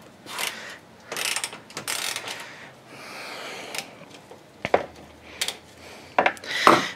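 A ratchet removes the lower radiator bolts on a 2005–2009 Lexus RX 400h, giving several bursts of rapid clicking and metallic clatter separated by short pauses, close and fairly loud.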